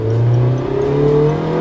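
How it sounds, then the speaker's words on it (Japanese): Small Toyota TownAce camper van pulling away from a standstill at full throttle, a loud continuous engine whir with rising tones climbing steadily as it accelerates, no talking over it. "これベタ踏み0から40までの加速どうでしょうか"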